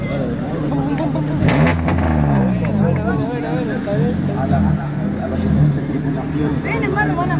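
A car engine revs repeatedly as the throttle is blipped in rising and falling surges, close and loud, with several people talking and shouting excitedly over it the whole time.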